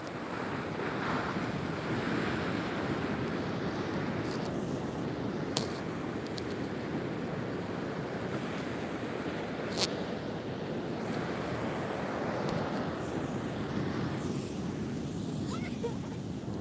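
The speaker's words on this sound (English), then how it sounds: "And there's some crazy waves coming in here." Ocean waves break on the beach at Half Moon Bay, a steady rushing surf roar mixed with heavy wind buffeting the microphone, continuous and loud throughout.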